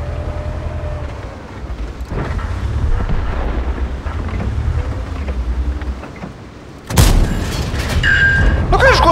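Tank cannon firing in World of Tanks: a sudden loud boom about two-thirds through, breaking over rumbling engine noise and wind, followed by sharp clanks and ringing.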